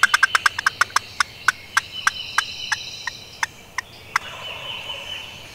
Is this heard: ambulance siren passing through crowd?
no